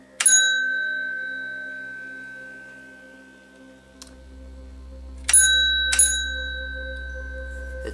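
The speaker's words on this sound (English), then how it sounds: "The distinctive Otis bell." An Otis elevator hall lantern chime rings out clearly: one bright bell stroke that rings on and fades, a faint tick, then two more strikes in quick succession, with a low hum rising beneath.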